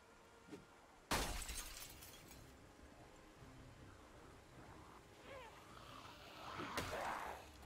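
Window glass smashes with a sudden loud crash about a second in, followed by scattered tinkling debris, faint movement noises and a later burst of rustling, inside the zombie survival game Project Zomboid.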